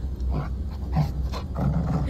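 A dog in a horror video game whimpers and gives short yips in a brief, close burst of distressed canine cries with no one talking over it.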